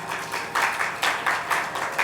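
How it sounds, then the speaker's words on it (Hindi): A religious discourse audience claps along at a Hindu katha gathering, the sound arriving in soft rhythmic bursts of applause, moderately distant and steady, with no talk over it. "तो आप ताली बजा दिया करो।"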